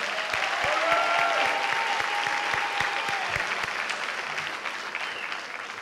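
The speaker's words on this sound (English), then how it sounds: "please give these students a round of applause" A large crowd at a high school graduation ceremony applauds steadily, dense clapping that stays loud and sustained before easing slightly toward the end.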